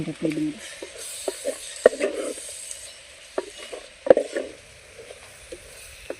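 Greens cooked with dried prawns are stirred in a pan with a faint sizzle and scattered scraping clinks of the spoon, alongside intermittent talk.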